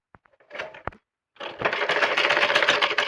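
A sewing machine stitches a petticoat hem. A few light clicks and a short whirr come first, then, after a brief pause, a continuous rapid mechanical chatter runs close by to the end.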